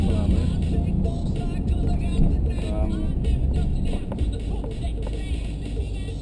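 Unmuffled engine of a 2012 Jeep Grand Cherokee SRT8 rumbling steadily from inside the cabin during a drive, a loud low drone with slight rises in revs throughout.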